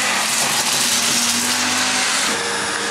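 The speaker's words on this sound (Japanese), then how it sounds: "掃除機ってこんな音したっけ？" A household vacuum cleaner runs loudly and close by, a continuous whirring roar with a steady motor tone and slight shifts in pitch, with no talking over it.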